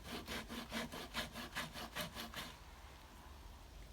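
Sandpaper wrapped around a scrap of wood rubs back and forth over a wooden surface in about ten even, rhythmic strokes, close and quiet, then fades into faint background noise.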